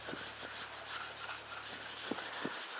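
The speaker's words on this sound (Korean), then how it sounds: "그 다음에 220방으로 다시 한번 조금 더 면을 곱게 다듬어 줍니다" Hand sanding of a wood surface with fine 220-grit sandpaper: steady soft rubbing strokes with a few sharper scrapes near the end, close and clear, with no talking.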